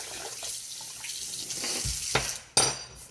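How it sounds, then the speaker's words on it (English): Tap water runs steadily into a sink while a spoon is rinsed beneath it, with a hissing stream and a few sharper splashes and clinks near the end. "I'm going to rinse off my spoon here"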